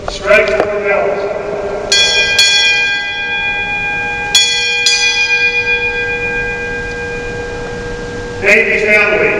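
A ship's bell rings at a United States Navy retirement ceremony, struck in two close pairs for four bells, each clang ringing out with a long, bright sustain, with further bell strokes at the start and end.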